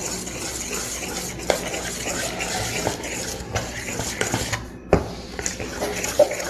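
A spoon or whisk beats a thick batter of rice flour and fennel seeds in a bowl, giving continuous close wet stirring with irregular clinks against the bowl and no talking.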